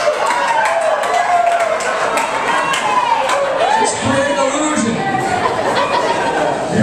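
Comedy club audience keeps up a steady roar of crowd noise and chatter, loud and continuous throughout, with cheering and scattered clapping rising in the mix.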